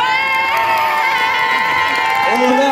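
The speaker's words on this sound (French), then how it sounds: "On applaudit très fort Darcy Rubio." Crowd at a cosplay contest cheering and applauding loudly, with high shouts and whoops over a steady roar, while a host speaks over the noise.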